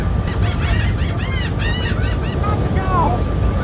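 Harsh, honking seagull calls repeat in quick bursts over steady loud background rumble at Fort Fisher, with a few drawn-out cries near the end.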